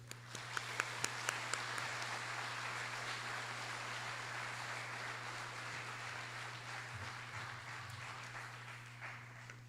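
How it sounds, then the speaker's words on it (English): An audience at an 8th grade completion program gives a round of applause for families, friends and teachers, a soft, continuous patter of clapping heard at a distance over a steady low electrical hum. "give a round of applause for the family, friends, and teachers that have been the pillars to success for our 8th grade students"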